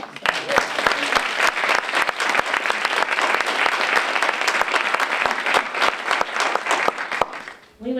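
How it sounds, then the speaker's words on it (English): A seated audience at a graphic novel prize ceremony breaks into sustained applause, dense clapping that holds steady for several seconds before tapering off at the end. "let's give a round of applause"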